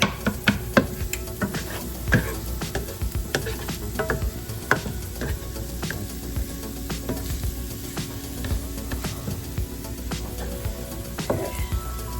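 An egg smash sandwich cooks in a pan with a steady sizzle and frequent stirring, scraping clicks and utensil taps throughout, fairly close and with no talking.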